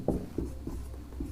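A pen scratches across paper in several short, distinct strokes while someone writes out the simple interest formula, the sound close and fairly quiet with no talking.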